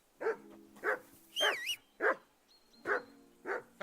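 A dog barks in the video game Kingdom Come Deliverance II, six or seven sharp, evenly spaced barks with a brief whine between them, close and clear with no talk.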